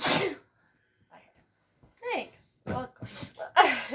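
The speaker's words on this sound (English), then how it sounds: "And I'm gonna sneeze." A single sharp sneeze bursts out at the start, followed by a pause and then people talking.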